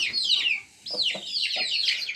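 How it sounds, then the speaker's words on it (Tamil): Native country chickens and their chicks on a farm cluck and chirp steadily, with busy high peeping calls overlapping throughout and a few lower clucks mixed in, fairly close. "இப்போ நம்ம பண்ணையில் இருக்கக்கூடிய அனைத்து கோழிகளும் குஞ்சுகளும் பார்த்திங்கன்னா ஆக்டிவாக இருக்குது"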